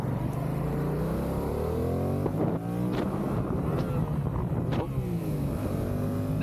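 A motorcycle engine runs while riding, with revs climbing and dropping through gear changes under steady wind buffeting, loud and close throughout.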